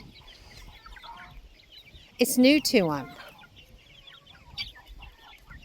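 Young chickens, likely replacement hens, cluck and squawk in a brief excited burst after a quiet stretch, close by, with a person speaking softly over the birds.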